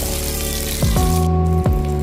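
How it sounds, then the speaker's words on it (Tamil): Water pours and splashes into a pan while making tomato sambar, a steady liquid rush with a faint hum and a couple of clinks underneath. "தண்ணி எடுத்து தண்ணியில் ஊற்றிக்கோங்க"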